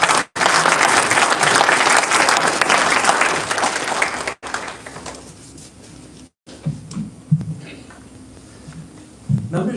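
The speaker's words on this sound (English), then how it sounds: "Let's give her a round of applause." Applause from an audience at a college honor society induction ceremony, loud and sustained for about four seconds, then cutting to quieter room noise with faint scattered sounds.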